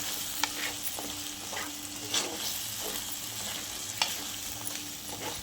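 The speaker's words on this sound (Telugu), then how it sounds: "బుడమకాయ ముక్కలు, ఇక మామిడికాయ ముక్కలు. ఇవి వేసేసుకొని మంచిగా కలపాలి బిడ్డ" Budama cucumber and raw mango pieces are stirred into a sizzling mutton curry, a steady hiss with occasional soft clacks of the spoon against the pot, close and without speech.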